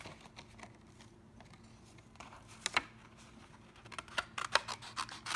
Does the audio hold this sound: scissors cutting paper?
yes